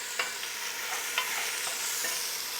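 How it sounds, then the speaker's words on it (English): Chili with tomatoes sizzling in a pot, a steady hissing fry with a few soft stirring scrapes, close and moderately loud with no voices. "This is sizzling."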